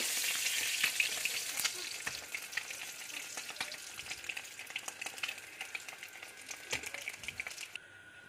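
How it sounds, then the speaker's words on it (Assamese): Eggs fry in hot oil in a pan, a steady close sizzle crackling with spitting pops and faint stirring scrapes, fading out at the end. "এয়া চাওক, কণী ফ্ৰাই কৰি লৈছোঁ।"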